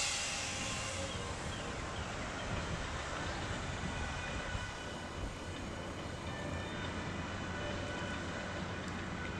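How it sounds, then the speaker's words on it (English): MARC commuter train stopping at a station, a steady loud rumble of railcars with clickety-clack wheel noise and faint squeal throughout, no talking. "And a MARC train is stopping."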